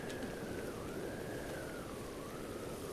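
Rain falls in the video game Zelda Breath of the Wild as a constant, even hiss of drops with no break, and a faint wavering tone runs through it.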